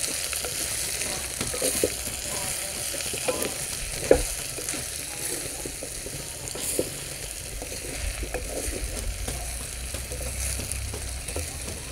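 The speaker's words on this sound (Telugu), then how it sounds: "ఒకసారి బాగా కలుపుకొని సరిపడ ఉప్పు కొంచెం పసుపు ఒక స్పూను కారం వేసుకొని కలుపుకోవాలి" Okra curry stirred in a pan after salt, turmeric and chili powder go in, a steady frying sizzle running throughout with scattered scraping clicks from the spoon, close and continuous, with no voices.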